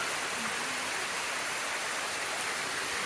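Waterfall on Patnanungan Island, a continuous broadband rush of falling water that stays loud and even throughout, with no voices.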